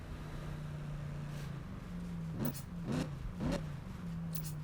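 Corvette engine in Need For Speed 2015 revving in several short rises over a steady idle hum, moderately loud and close, with no talk.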